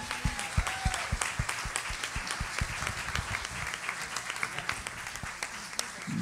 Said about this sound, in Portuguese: Vamos dar uma salva de palmas ao Senhor pela vida deles, amém?